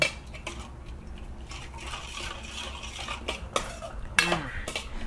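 A spoon stirs Thai spicy salad dressing with a splash of pork broth in a dish, clinking and scraping in steady strokes close by, with brief louder knocks against the container.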